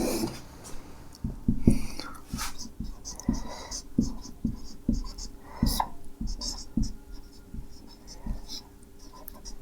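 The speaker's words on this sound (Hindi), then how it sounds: "तो यहां लिखेंगे इस चीज को" Writing by hand on a board or paper during a maths lesson, with repeated scratchy strokes close by in an irregular rhythm and faint low murmuring under them.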